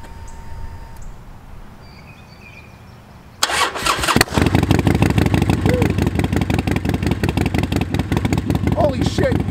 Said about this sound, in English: So let's crank this bike over and see how it sounds.